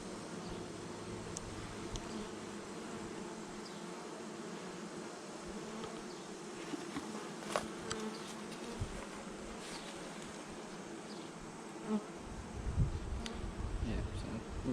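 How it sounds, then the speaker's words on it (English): Honey bees buzz from an open hive during a state bee inspection, a dense, continuous drone close by, with scattered handling knocks and a faint voice briefly near the end. "Looks like a lot of bees in here."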